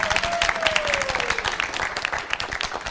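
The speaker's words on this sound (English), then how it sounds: "Give yourselves a round of applause." A theatre audience at a stage production of A Midsummer Night's Dream applauds in a dense, continuous wash of clapping that fades slightly toward the end, with a faint whistle-like tone early on.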